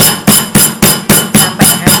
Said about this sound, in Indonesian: Ini tinggal memukul-mukul. Nah, ini dipukul-pukul pakai palu bisa, pakai ulekan juga bisa